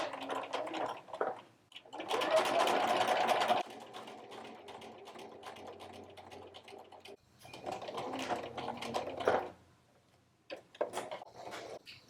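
A sewing machine stitches along the side and across the toe of a vinyl doll shoe, in several bursts of whirring separated by short pauses, close up and alone.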